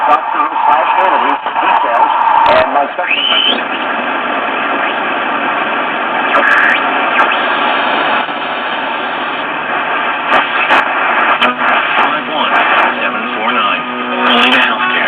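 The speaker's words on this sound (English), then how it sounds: "We got some real bad oscillating going on." A vintage radio receiver, aligned with an RCA WR50B signal generator, oscillates at the low end of its band, producing a loud, steady whistling hiss with wavering tones that runs the whole clip, alone with no talk.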